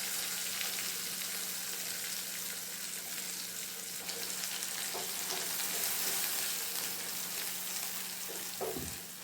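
Ground drumstick-leaf paste for thokku simmering and sizzling in oil, a continuous dense frying hiss with occasional soft stirring scrapes, close and steady with no talk.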